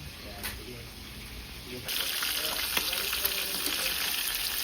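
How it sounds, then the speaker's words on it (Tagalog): Steady oily sizzling of two tilapia frying in a pan, growing louder and brighter partway through, with occasional pops and crackles. "Prito po tayo ng tilapia."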